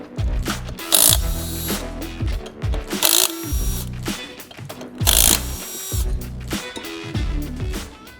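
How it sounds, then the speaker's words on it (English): Impact wrench hammering off flywheel bolts, loud close bursts of rapid rattling impacts in about four roughly evenly spaced runs separated by short pauses, with no talking. "you're gonna want a nice cordless impact or a pneumatic impact to be able to get those off"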